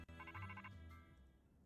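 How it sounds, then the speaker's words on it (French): Phone ringing in the video game Pokémon Legends Z-A, a quick burst of repeated electronic ringtone pulses over a soft game music bed, clear and without speech. "le téléphone là en plein milieu"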